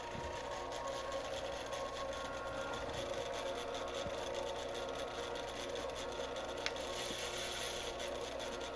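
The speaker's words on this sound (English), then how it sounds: "There was a bit of a rattle in the lathe. I changed this belt and she got a lot quieter." Shop Fox W1758 wood lathe running smoothly on a new drive belt, a steady continuous whir and hum at an even level throughout with no rattle.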